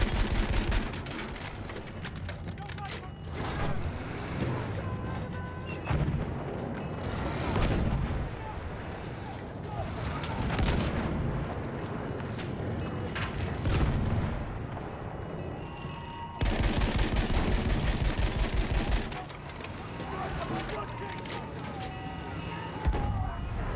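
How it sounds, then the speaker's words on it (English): An enemy artillery barrage in the video game Battlefield 1, relentless booming blasts and gunfire layered into a dense, loud roar lasting throughout, with voices shouting beneath. "Wait for the enemy artillery barrage to stop firing."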